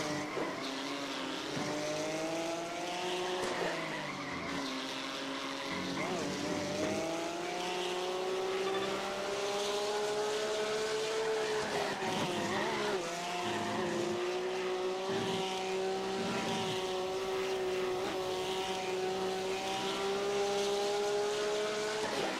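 Porsche Cup race car in the iRacing sim, its engine droning loudly and steadily throughout with rising and falling pitch through gear changes, tires squealing at moments, no talk.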